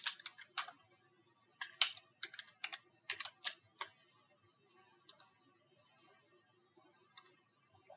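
Someone types a username and password on a computer keyboard, with quiet, close key clicks coming in short irregular bursts separated by brief pauses.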